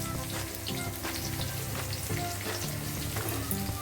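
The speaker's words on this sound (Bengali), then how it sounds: "দিয়ে জিরেটা একটু ভাজা করে নেব" Whole cumin seeds frying in hot oil with onion and garlic, a steady dense sizzle with light stirring scrapes, close and continuous throughout with no talking.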